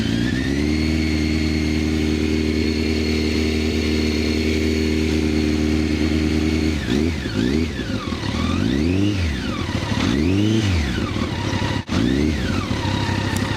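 Honda CBR1100XX Super Blackbird motorcycle engine idling steadily up close, then blipped through several revs that rise and fall in smooth swells before settling back, loud throughout with no talking.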